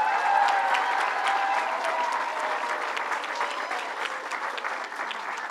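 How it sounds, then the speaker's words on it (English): An audience applauds a school principal at a governor's after-school program event, steady close clapping from a sizable crowd that slowly tapers without fading out. "let's give her a round of applause"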